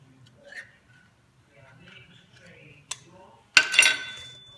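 A spoon stirs honey, oats and protein powder together in a bowl, giving a few soft scrapes followed by a louder burst of clinking and scraping against the bowl near the end, close by and with a faint murmur in the background.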